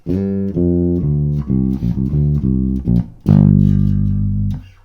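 A bass guitar riff from a cover version of a song: short repeated notes played in unison with other instruments, choppy and rhythmic, ending on a long sustained low note.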